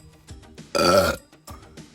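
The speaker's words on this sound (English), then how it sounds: "the best thing to do is simply burp the trapped air out. Like so." A single long, loud burp from a cartoon tugboat bursts out mid-clip between soft background sounds, clear and close.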